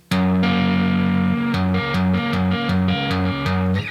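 A distorted electric guitar plays the root note and the third above it, first ringing together, then hammered back and forth in a quick even rhythm for a song's riff, loud and alone.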